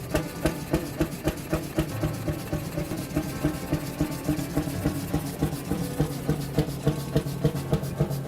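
Century-old four-stroke engine with a massive cast iron flywheel running steadily, loud regular thumping firing beats with mechanical clatter, close and alone.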